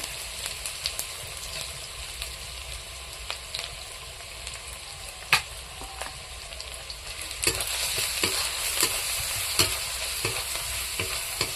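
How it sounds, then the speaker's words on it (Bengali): Spices, a bay leaf and chili powder sizzle steadily in hot oil as they are stirred, with scraping strokes and a crackling that grows louder toward the end, for chickpea and pea ghugni. "ওই তেলে ফোড়ন, ওর মধ্যে দেব লঙ্কা গুঁড়ো"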